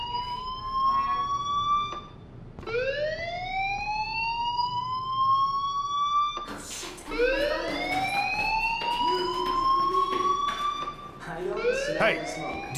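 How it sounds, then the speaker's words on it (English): In the video game Life is Strange, a fire alarm sounds with repeated rising, wailing sweeps that are loud and steady. Each tone swoops upward over a couple of seconds, then starts again, with some faint background noise underneath. "Hey, do you hear that fire alarm?"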